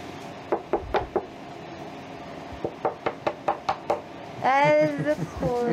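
Knuckles rap on a hard molded surface, a few single knocks then a quick run of about six, close and crisp, followed by a short burst of voices.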